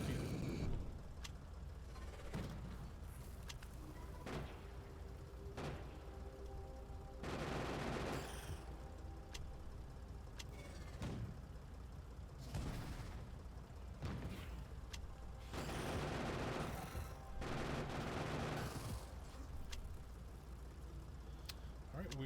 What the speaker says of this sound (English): Let's do what we always do and start shelling it.